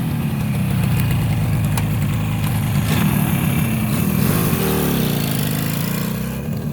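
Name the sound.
Yamaha R5 350 motorcycle engine idling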